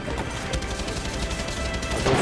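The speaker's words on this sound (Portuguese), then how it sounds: "Não acerta um tiro com aquela arma, pô." Gunfire from the video game Far Cry 6 crackles in a dense, continuous burst of rapid shots and impacts, loud and busy throughout, with no talking.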